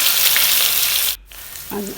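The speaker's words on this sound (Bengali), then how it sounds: "প্রথমে আলুগুলি ভেজে নিচ্ছি" Potatoes coated in rice-flour batter fry in hot oil in a wok, giving a steady close sizzle that cuts out briefly, then returns with a faint clink.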